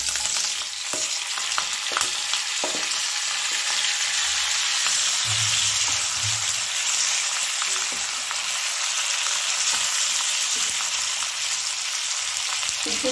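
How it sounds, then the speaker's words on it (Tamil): Boiled potatoes and turmeric fry in a pan for potato masala, with a dense continuous sizzle, a few crisp clicks of a spoon, and a brief low thump midway. "மஞ்சத்தூள், வேக வச்ச உருளைக்கிழங்கு போடுறேன்."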